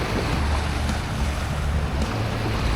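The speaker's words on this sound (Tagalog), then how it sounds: "nakakarinig ng hampas ng alon, nakaka-relax" Steady wash of waves on Manila Bay's Dolomite Beach, a continuous broadband roar of surf mixed with wind buffeting the microphone, no voices.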